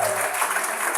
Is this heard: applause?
yes